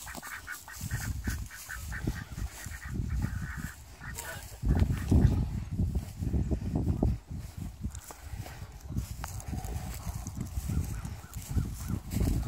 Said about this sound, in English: Some geese is right here.